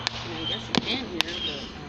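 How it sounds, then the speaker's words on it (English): Distant fireworks going off as a few sharp pops and bangs, about three reports over a low steady background, with voices talking nearby. "Can you hear these fireworks?"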